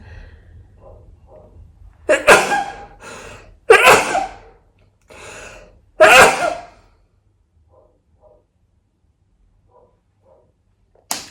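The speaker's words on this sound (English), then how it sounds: "Oh, I need to sneeze." A few sharp sneezes, loud and close, separated by short pauses and quiet breathing, followed by silence.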